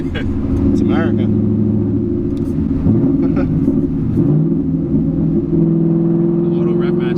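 A 2019 Ford Mustang GT with a loud V8 rumbles and drones steadily, with scattered crackles and pops from the exhaust on the overrun, heard from inside the car while people talk over it.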